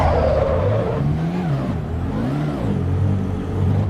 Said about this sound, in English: And you can hear that turbo.